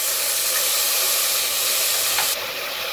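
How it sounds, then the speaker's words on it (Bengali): Ground onion paste hitting hot oil in a pan for a yogurt fish curry, giving a loud, steady hiss close by that drops slightly after a couple of seconds. "এবার আমি এর মধ্যে দিয়ে দেবো যে পেঁয়াজটা, আমি একটা গোটা বড় পেঁয়াজ বেটে রেখেছিলাম, সেই পেঁয়াজটা।"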